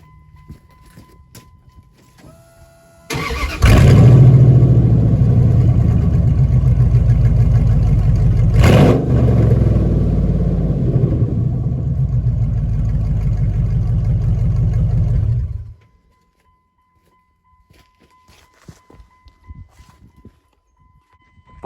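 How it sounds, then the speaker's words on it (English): A car with a new, louder exhaust system starts up and runs with a deep, rumbling drone for about twelve seconds, with a sharp blip partway through, then shuts off abruptly into near silence. "Here, I'll give it a good old start up."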